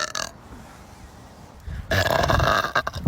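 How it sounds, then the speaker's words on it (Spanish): A woman lets out a deep, loud morning burp near the end, a rough drawn-out belch after a quiet stretch, close to the microphone with no talk over it. "Un eructo mañanero para que amanezcan bendecidos."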